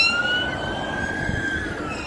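A police siren wails steadily at moderate distance, its tone slowly shifting as it passes, over a continuous hum of London street traffic near Buckingham Palace.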